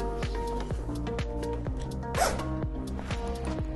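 A zipper on a Gorilla grow tent is pulled open in a steady series of close, rasping strokes, heard alone without talk.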